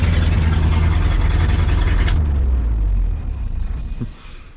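Ford F600 truck engine idling loudly up close with a deep, steady rumble, then shut off so the sound drops away, leaving faint low rattles and quiet.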